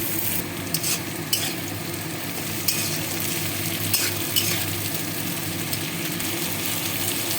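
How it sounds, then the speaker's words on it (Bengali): Tomatoes and diced onion being fried with mixed vegetables for a stew, a steady close sizzle with occasional stirring clinks, no voices. "এবার আমি টমেটো আর চৌকো কাটা পেঁয়াজ দিয়ে দিলাম"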